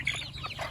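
Farm chickens cluck while being fed alongside ducks and geese, a brief burst of close clucking calls outdoors.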